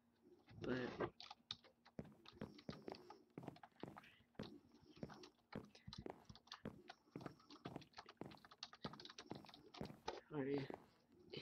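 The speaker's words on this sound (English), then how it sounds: "Sorry if you guys can hear the clicking and my typing." Rapid computer keyboard typing and mouse clicking during Minecraft Factions gameplay, a close, steady clatter of sharp keystrokes and clicks that runs for the whole stretch while someone talks over it.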